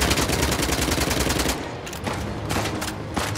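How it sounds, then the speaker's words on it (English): Sustained automatic gunfire from Nadine in the video game Uncharted: The Lost Legacy, a dense loud volley that eases after a second and a half into scattered separate shots, with no one talking. "that's Nadine shooting"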